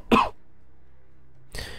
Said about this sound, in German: Einen Moment, ich muss gerade husten.